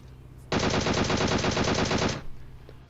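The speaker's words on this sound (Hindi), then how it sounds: "कोई और बंदा उस पर गोली चलाने लगता है दूर से" Sustained burst of automatic gunfire from another player in PUBG Mobile, a rapid steady rattle lasting over a second and a half, loud and uninterrupted before cutting off.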